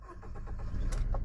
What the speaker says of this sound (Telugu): ఒకటే సెల్ఫ్ కి స్టార్ట్ అయిపోయింది.